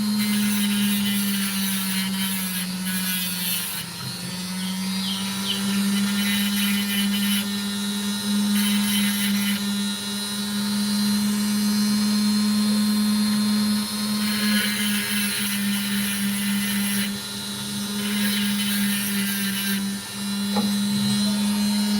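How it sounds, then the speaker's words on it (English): A rotary tool works an opal, giving a sustained high-pitched motor whine close by that dips briefly in pitch and load several times as it bears on the stone, with no talk. "I suppose I had better refer to this as a rotary tool, not a Dremel"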